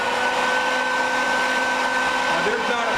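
A bee-removal vacuum with a suction hose runs in a steady, loud whine with a broadband roar, continuous and close, drawing from comb built inside a house wall.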